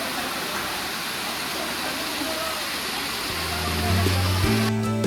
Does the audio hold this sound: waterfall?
yes